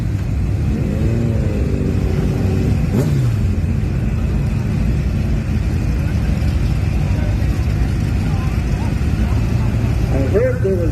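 Twin turbo LS 5.3 Mustang doing a burnout at a drag strip, a loud rumbling engine roar that rises and falls with revving, heard at a distance under crowd noise and voices.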